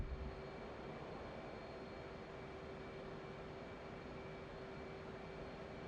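An F/A-18 jet at full power taking off in the flight sim DCS World, a steady loud engine roar with a constant whine held throughout, no voices.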